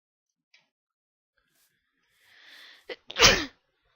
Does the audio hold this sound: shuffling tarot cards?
no